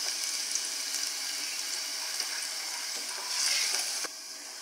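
Garlic sizzling in about two spoons of olive oil in a pan, a steady, moderate hiss that swells briefly near the end and then drops abruptly to a quieter sizzle.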